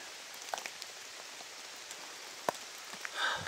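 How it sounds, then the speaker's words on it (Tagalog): Steady rain hiss with scattered drops tapping nearby surfaces, a few sharper splashes standing out; no voices. "Sobrang lakas ng ulan guys."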